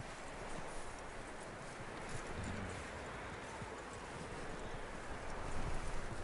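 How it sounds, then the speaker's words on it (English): Horse hooves clip-clop steadily at a walking pace in Red Dead Redemption 2, close and continuous over a low bed of ambient outdoor noise, with no voices. "That looks like a decent horse. You should keep him."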